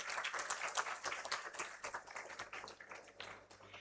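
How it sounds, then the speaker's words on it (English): Audience applause fills a hall at an international research conference, a steady wash of clapping hands with moderate loudness throughout, no speech over it. "Can we please have a round of applause for Sir?"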